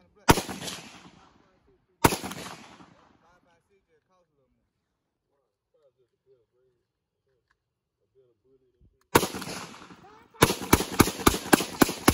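A shotgun fires outdoors in the country: sharp, loud blasts with ringing decay, one early, another around two seconds, then after a quiet stretch a final burst of several rapid shots close together.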